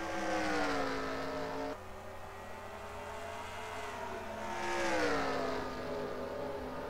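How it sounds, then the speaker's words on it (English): Race cars in a Bristol racing video game drone past with layered engine whine, pitch sliding up and down as they accelerate, a steady moderate roar without commentary. "Just having some exciting Bristol racing."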